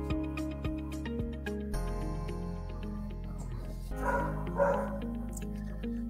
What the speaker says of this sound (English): Good thing I closed that door, because now my dogs are barking.